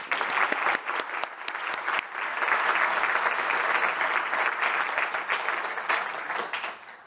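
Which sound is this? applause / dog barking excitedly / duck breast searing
applause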